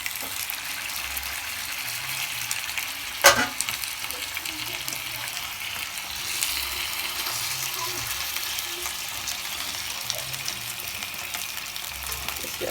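Beef steak simmering in a pot of liquid for a Jamaican stovetop pot roast gives a steady, moderate bubbling sizzle, broken by one sharp clink near the start.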